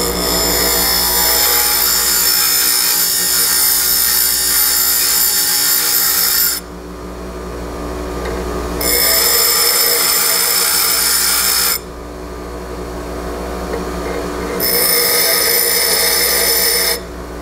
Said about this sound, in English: we're going to press the flutes straight into the wheel, and we're going to grind it